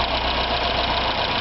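A car engine idles steadily and fairly loudly, running smoothly with little hesitation and a faint knocking texture through a continuous, even rumble.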